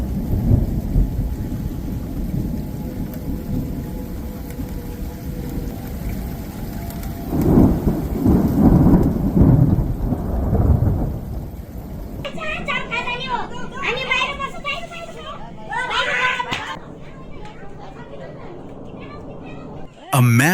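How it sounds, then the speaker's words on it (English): Heavy rain pours down in Hawaii while deep thunder rumbles and swells, then the storm gives way to voices speaking over a quieter background. "Storm drains overflowed after heavy rain poured down across Hawaii."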